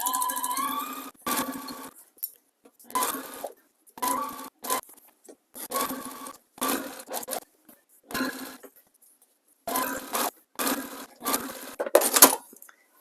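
A sewing machine stitching the final seam of a quilt top made from precut squares, running in short bursts of rapid mechanical whirring separated by brief pauses, close and clear.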